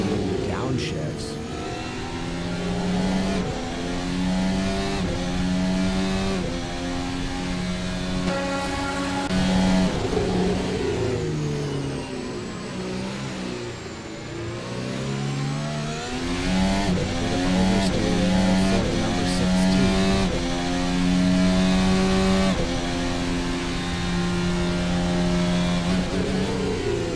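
An F1 race car in the Assetto Corsa racing game screams through a fast circuit, engine pitch climbing and dropping sharply through downshifts, loud and continuous beneath a commentator's voice.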